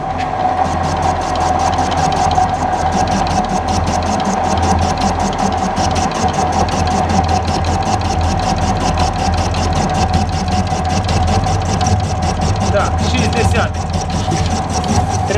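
A machine tool spindle runs steadily while cutting a steel KTM crankshaft, giving a constant mechanical hum with a fast, even ticking throughout, close and moderately loud.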